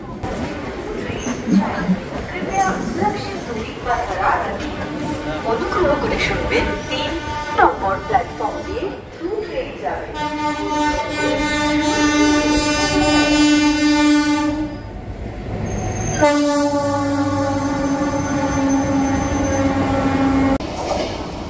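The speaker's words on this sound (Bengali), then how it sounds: "ট্রেন এইমাত্র বেলুড় স্টেশনে ঢুকল।" A train pulls into Belur station with a steady rail rumble and two long, loud horn blasts, with voices nearby under the noise.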